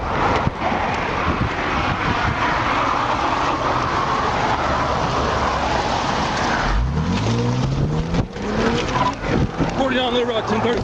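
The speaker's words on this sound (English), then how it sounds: "as soon as the trooper stepped out of his unit, the car took off" A fleeing car speeds away from a police traffic stop on an interstate, its engine rising in a loud rush over wind noise, while a voice talks over the roar.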